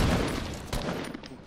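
Shotgun blast in the Fortnite video game, a single sharp burst partway through over continuous loud game noise and background clatter.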